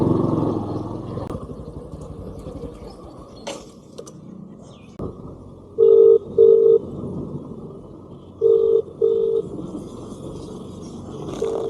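Two pairs of short telephone tone pulses sound over a low rumble of passing traffic and engine noise.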